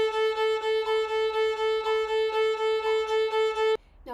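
A violin plays steady sixteenth notes on a single repeated pitch, four even strokes to each beat in a quick, unbroken rhythm for several seconds before stopping abruptly, with no talking.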